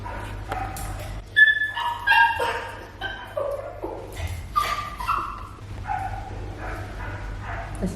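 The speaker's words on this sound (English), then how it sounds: "There's a dog going crazy out there" A dog barks and yips repeatedly outdoors at some distance, excited irregular bursts with whimpering tones, moderately loud over a faint background hum.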